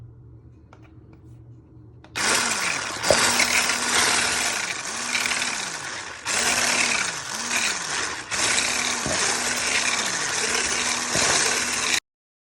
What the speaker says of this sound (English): So it might get a little bit loud, so you're just going to whisk it all together so it gets a nice smooth texture